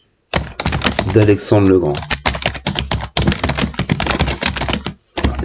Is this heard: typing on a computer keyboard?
yes